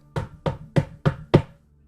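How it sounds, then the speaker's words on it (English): Five evenly spaced knocks on a door, close, loud and crisp, then silence, with no voices. "the door knocks again"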